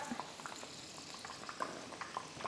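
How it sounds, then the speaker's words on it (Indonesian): Liquid boiling in a pot on a home stove gives a faint, continuous bubbling with scattered small pops, alone and close by. "kalau udah cukup mendidih kayak gini bisa kita matiin"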